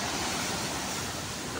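Ocean surf at Teluk Penyu beach in Cilacap, a steady, dense broadband wash of breaking waves, loud and continuous with no distinct individual crashes.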